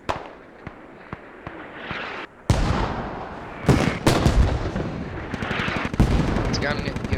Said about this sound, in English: Freddy gets taken out by a mortar. Anza gets taken out by a mortar.